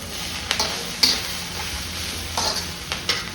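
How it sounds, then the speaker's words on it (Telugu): Chicken fried rice stir-fries over high heat, a loud, dense sizzle with quick, sharp ladle strikes and scrapes against the pan recurring every second or so, with no one talking. "ఇంకా కొంచెం వేగాలి ముక్కలు."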